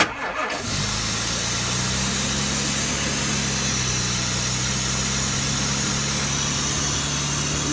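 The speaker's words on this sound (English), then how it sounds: "We gotta slow the idle speed down" A 1967 Jaguar engine cranks and catches, then settles into a steady, close, rumbling idle that runs on its own without any voices.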